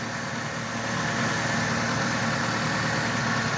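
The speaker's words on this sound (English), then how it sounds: "With the motor running" A 2013 Dodge Avenger engine idling close up, a steady, loud, even hum with low vibration holding constant throughout, no voices.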